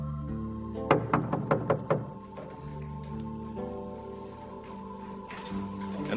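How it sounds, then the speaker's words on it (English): Knocking on a door in a dramatized Bible reading from Acts 12: five sharp, evenly spaced raps, close and loud, followed by a sustained low musical drone. "But Peter kept on knocking."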